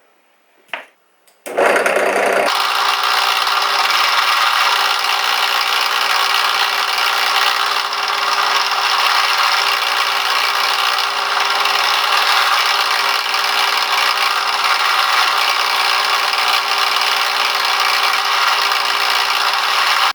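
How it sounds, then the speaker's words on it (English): A small power drill whirs steadily at close range after a brief click, drilling eye sockets in a wooden fishing lure, its high buzzing whine holding unbroken for a long stretch. "now I'm going to go and drill the eye sockets"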